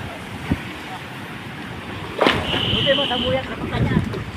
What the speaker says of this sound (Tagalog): Ang laki ng alon oh.